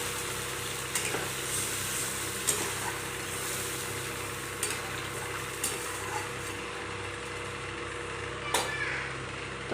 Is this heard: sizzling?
yes